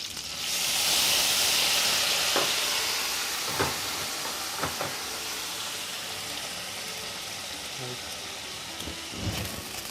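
Hot oil in a pan sizzles and hisses loudly after cognac is added to frying fish, a steady wash with scattered sharp crackles and clinks of stirring throughout.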